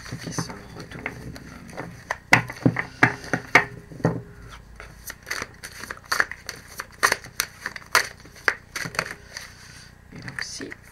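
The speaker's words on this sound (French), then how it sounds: "j'ai trop de cartes qui se retournent." Tarot cards are handled, shuffled and flipped over, giving crisp papery snaps, rustles and flicks in irregular bursts close by, with a voice speaking at times.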